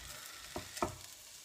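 Chopped sausages dropped into an oiled pan over gentle heat give a faint steady sizzle with two quick louder crackles, close up and with no talking.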